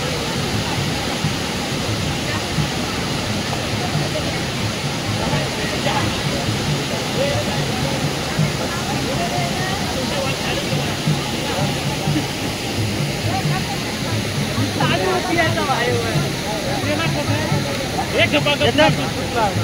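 A steady roar of rushing, falling water from a waterfall at a festival fills the scene throughout, with a crowd's voices chattering faintly underneath.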